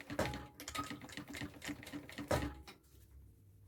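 A sewing machine with a standard presser foot and dual feed stitches a zipper onto a bag, running in a rapid steady rhythm of close mechanical clatter, then slowing and stopping near the end.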